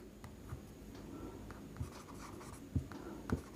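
Chalk or marker writing on a classroom board during a maths lesson: faint scratchy strokes with a few sharper taps, quiet and close, with no talking.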